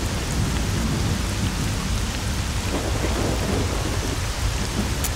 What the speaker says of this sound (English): It's raining like fucking lot.